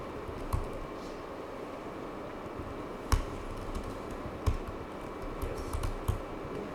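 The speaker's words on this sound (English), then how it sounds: "I'm typing in the wrong place" Typing on a computer keyboard during a beginner coding session: a steady patter of soft key clicks with a few sharper, louder strokes standing out over a quiet room hiss, with no talking.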